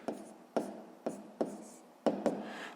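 A pen writes on paper while a sixth-grade math solution is set down, several short scratchy strokes and taps, close and quiet, with no talking.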